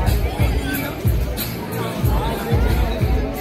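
A crowd gathered at an arm wrestling event, dense chatter and babble close by, with a few louder thumps and bursts rising above the steady hubbub.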